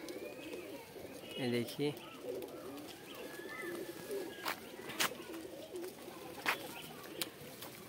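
Pigeons coo softly in low, rolling calls among a flock, with a few sharp clicks and a voice speaking briefly nearby.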